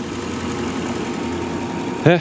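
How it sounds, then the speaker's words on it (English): A car engine idles smoothly and quietly with a soft, even hum under a faint rhythmic ticking, until a voice briefly cuts in near the end. "It's amazing how smooth this engine is. It's so quiet too"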